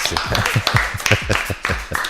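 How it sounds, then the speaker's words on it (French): A few people clap along in a radio studio after a weather segment, sparse rhythmic handclaps sounding close and distinct rather than a full crowd roar, with quiet voices underneath. "Applaudissements pour la météo de l'ANA"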